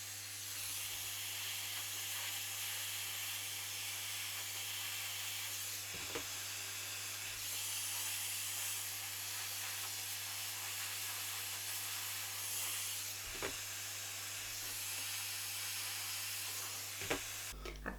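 A hair blow dryer runs continuously at full power while a short stacked inverted bob is being styled, a loud steady broadband rushing roar with a low motor hum, broken only by a few brief clicks and bumps.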